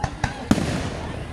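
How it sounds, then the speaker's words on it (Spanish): Fireworks display bursting over Boston, with three sharp booms about a quarter second apart, the last loudest and trailing into a rumbling crackle; a voice is faintly present. "Estamos viendo un tremendo espectáculo en vivo y en directo por tu canal JM Actualidades de fuegos artificiales ahora acá en Boston."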